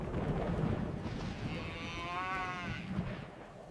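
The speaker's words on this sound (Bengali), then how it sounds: "গরুর দল ছুটে পালাতে লাগলো।" Sound effect of a cattle herd mooing: one drawn-out moo rises over a low rumbling background, with a soft muffled bellow near the start and end.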